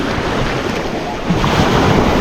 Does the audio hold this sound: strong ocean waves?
yes